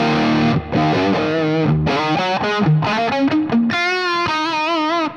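Electric guitar played through a Marshall JMP amp with no reverb, loud and distorted, chords and sustained notes ringing out alone.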